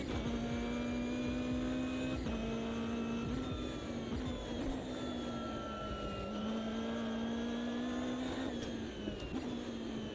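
A Ginetta race car in a racing video game laps Road Atlanta during an early morning practice run. Its engine drones steadily and loudly with a near-constant pitch, with brief dips and shifts from gear changes and throttle lifts.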